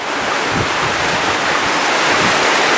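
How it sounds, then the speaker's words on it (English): Heavy rain pours down steadily outdoors during a walk, a dense, loud, even hiss with wind-like rushing and no break or voice. "the rain is now coming on very heavy"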